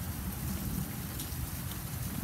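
Steady rain pours down in a dense, even hiss, close by and constant, with no voices over it.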